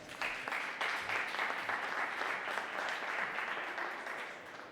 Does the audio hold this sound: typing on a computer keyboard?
no